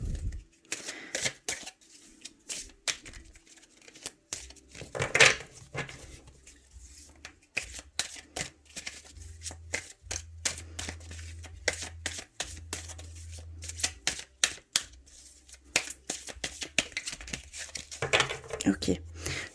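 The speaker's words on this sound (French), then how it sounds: "Je vais bien mélanger et on va les rechercher" Oracle cards being shuffled by hand in a quiet room, a run of soft papery riffles and flicks repeating in quick bursts at close range, with occasional louder slaps and a low hum underneath.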